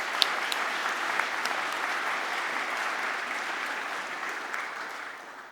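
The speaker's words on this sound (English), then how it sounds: "give them another big round of applause" At a science awards ceremony, an audience gives winners a big round of applause, dense steady clapping with a few sharper individual claps that slowly eases off toward the end.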